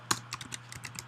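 Computer keyboard typing as a name and email are entered into a web form, a short burst of distinct sharp key clicks with one louder first tap, close and isolated, no voice.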